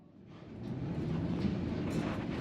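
Steady rumbling of the White Pass railway train rolling along its rails, a continuous low, dense roar with faint rattling throughout and no clear clacks.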